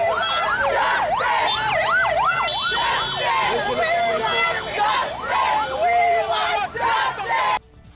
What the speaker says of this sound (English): As the Secretary of State's convoy got closer, the chanting became louder.